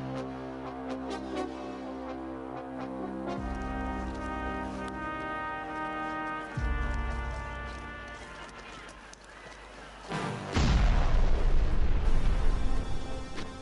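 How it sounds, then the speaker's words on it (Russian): Long-range Austrian artillery shelling Belgrade, heard as deep booms and heavy rumbling beneath a sustained dramatic musical score, growing loudest with a massive low blast near the end. "обстрел Белграда из дальнобойных австрийских орудий"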